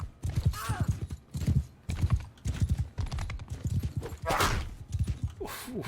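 Horse galloping in Mount and Blade 2: Bannerlord, with a Vlandian lancer riding, its rhythmic hoofbeats coming in repeated bursts of clip-clop at moderate loudness, alone without talk.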